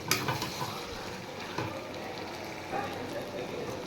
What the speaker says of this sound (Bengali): এবার মটন আর একটু কষিয়ে নেব ভালো করে।